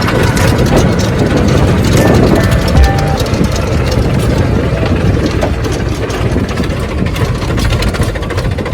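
A loud, close tractor engine idles with a steady low rumble and rattle, holding an even drone throughout.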